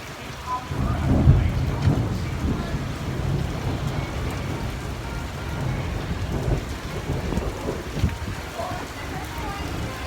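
Hail and rain pour down steadily during a thunderstorm, with low rumbling thunder early on and a constant broadband hiss of falling ice and water, while people speak nearby.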